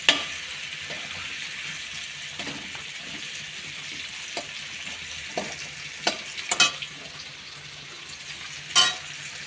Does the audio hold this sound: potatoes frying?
yes